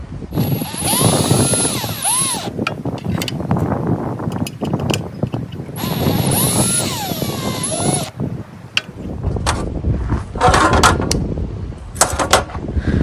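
A power drill whines in two bursts, driving screws into a David West style hobo stove, with a high-pitched motor pitch, amid clunks and handling noise between runs.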